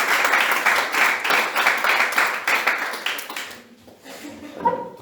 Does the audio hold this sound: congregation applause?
yes